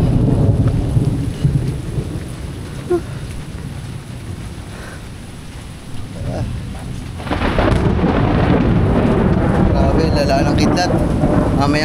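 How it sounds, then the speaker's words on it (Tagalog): Thunderstorm over farmland with rolling, nearly continuous thunder and a light drizzle, loud and close, swelling to a heavier roar in the second half; no one speaks. "Ambon na lang siya pero yung kidlat tuloy-tuloy."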